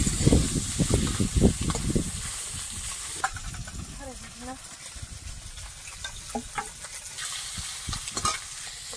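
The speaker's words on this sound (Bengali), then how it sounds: "এবারে ডিমগুলো দিয়ে ভেজে নেব।" Native duck eggs fry in hot oil in a wok, with a loud, crackling sizzle and stirring bursts for the first couple of seconds, then settling into a steadier, quieter spitting hiss with occasional pops.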